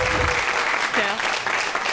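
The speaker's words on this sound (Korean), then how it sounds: "큰 박수 부탁드립니다." Studio audience applause on a Korean television show welcoming a guest English instructor, a dense continuous burst of clapping throughout, with faint voices mixed in.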